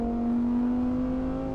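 A Lamborghini Huracan sports car drives at speed, its engine giving a steady, sustained tonal drone with a smooth whirring edge, loud and continuous without any talk.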